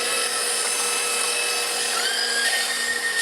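Eggs and milk with cheddar being whisked for brunch muffins: a steady, unbroken whirring close to the mic that holds an even level throughout.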